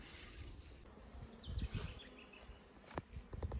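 Honeybees buzzing around a hive box housing a recently collected swarm, a faint outdoor hum with a few louder passes close by and soft knocks and rustles.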